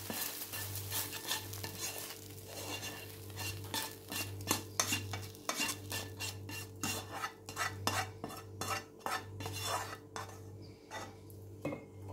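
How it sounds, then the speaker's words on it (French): Pork stir-frying in a hot pan for a Thai basil wok dish, with steady sizzling under repeated scraping and clinking of a utensil against the metal in an irregular rhythm, close and moderately loud throughout, no voices. "je les retire pour pouvoir bien faire sauter ma viande,"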